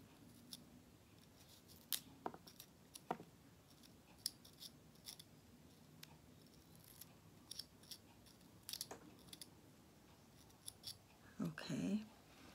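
Scissors snip into a radish in short, sharp cuts while carving flower petals, scattered irregularly with quiet pauses between, and a brief cluster of rustling handling near the end.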